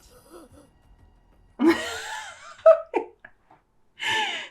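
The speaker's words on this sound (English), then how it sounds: "his breathing though" Heavy, exaggerated breathing of an anime character from Solo Leveling, heard as breathy gasps and sighing exhalations in short bursts, with a reacting viewer's voice around it.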